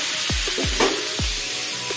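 Vegetables seasoned with salt and turmeric sizzle in a pan, a close, continuous hiss broken by a few short swooping tones during brief stirring.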